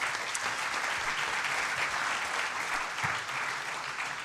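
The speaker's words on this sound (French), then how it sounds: "que vous pouvez applaudir" A conference audience applauding an economist on an industrial-policy panel, a steady, moderately loud patter of many hands clapping at an even level.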